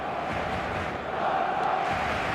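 Stadium crowd roar from the football video game eFootball, a dense steady wall of cheering that swells slightly louder midway, with no clear speech over it.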